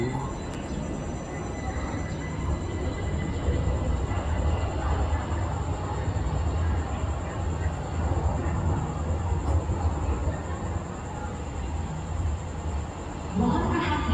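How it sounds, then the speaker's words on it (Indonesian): A light rail train rumbles steadily into a station, low and continuous, with faint Indonesian-language announcements and ambient station noise around it. "kereta tujuan stasiun Harjamukti akan memasuki platform 1"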